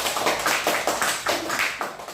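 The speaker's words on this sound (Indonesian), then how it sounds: "Tepuk tangan." Hands clap in a steady rhythmic pattern in a classroom lesson on zakat, about a dozen crisp claps in quick succession, close and clear with no talk over them.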